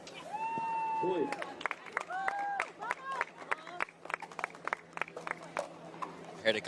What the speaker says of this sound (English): Heard a couple of vamoses in the crowd.